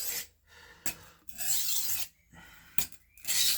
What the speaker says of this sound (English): This is how I sharpen my knife. You only use this much of your stone.